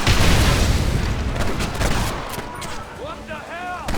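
Gatling gun firing in Red Dead Redemption: a loud, rumbling barrage of rapid shots and booms that eases slightly toward the end, with a voice shouting over the gunfire.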